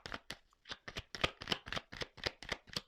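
Tarot cards shuffled by hand in a quick run of about a dozen crisp riffling bursts, close and fairly quiet, with no talking.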